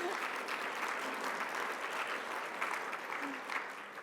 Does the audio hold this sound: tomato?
no